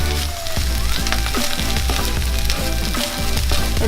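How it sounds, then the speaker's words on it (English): Kimchi fried rice frying in a hot pan, a loud, steady sizzle with scraping and stirring clatters from a utensil throughout, no talking. "When the heat is back on, you just want to fry everything together"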